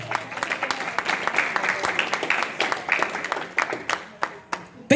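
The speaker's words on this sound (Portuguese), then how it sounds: "Aplauda Jesus." A church congregation claps together in a dense, sustained round of applause with uneven rhythmic bursts. Voices rise faintly beneath it.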